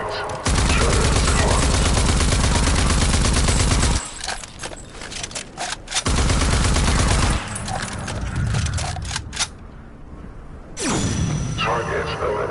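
Defense turret in Rage 2 firing in loud sustained automatic bursts, two long volleys of rapid gunfire separated by quieter stretches, with a voice speaking over parts of it.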